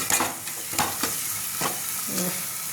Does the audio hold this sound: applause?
no